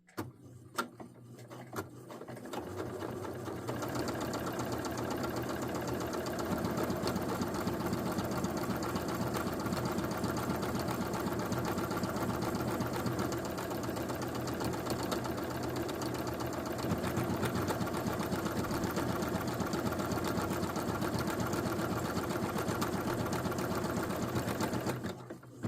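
A sewing machine stitches a buttonhole, its rapid, even needle chatter running continuously and close for over twenty seconds after a few brief starts, with no talking.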